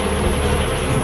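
Honeybees massed around a hornet, vibrating their abdomens in a dense, continuous buzzing hum, loud and steady with no pauses.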